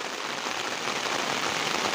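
Heavy rain pours down during local flooding, a dense, continuous hiss of drops striking surfaces, steady and fairly loud throughout with no other sounds.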